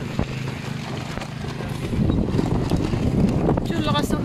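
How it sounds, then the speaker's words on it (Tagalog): Strong wind buffets the microphone on a cycling trail in Stellenbosch, rumbling and gusting harder partway through, with a voice briefly audible under the roar. "Lakas ng hangin."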